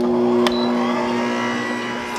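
A Hazel Quinn masticating juicer runs on its hard mode with the metal filter removed, a steady close motor hum with a brief click near the start.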